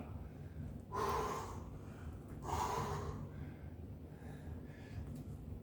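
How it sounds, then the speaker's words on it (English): Heavy, tired breathing after weight training and kicking practice, two loud gasping breaths about a second and a half apart, then quieter panting, close to the mic. "I'm already breathing hard because I'm tired from doing the weight training."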